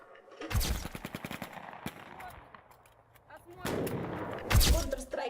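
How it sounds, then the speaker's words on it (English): Movie gunfire from a military action scene with Russian servicewomen: rapid bursts of loud shots, a quieter stretch, then heavy blasts that swell again, with some talk mixed in. "Just look at the He-Man. He sure knows how to shoot."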